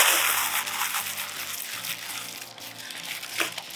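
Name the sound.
crumpling a piece of parchment paper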